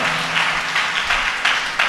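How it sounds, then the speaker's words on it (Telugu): A congregation at a Sunday worship service claps loudly and steadily, a dense, close wash of many hands with slight surges, with no talking over it. "చప్పట్ల కొట్టండి గట్టిగా"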